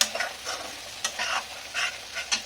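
Egg frying in a covered pan over a low flame, gentle sizzling broken by repeated soft scraping stirs, each a short burst of hiss, close up with no voices.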